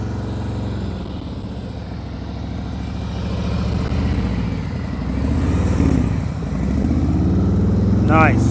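A motorcycle engine idling and revving gently during slow-speed riding practice, a low steady rumble that rises and falls with the throttle, with someone speaking briefly near the end.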